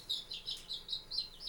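Silver Laced Wyandotte chicks cheeping in a brooder, a run of faint, high, rapid peeps repeating in quick bursts.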